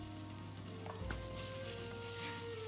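Sweated peppers and a squeeze of tomato paste fry in a pan, giving a steady low sizzle with a single soft knock of a utensil partway through.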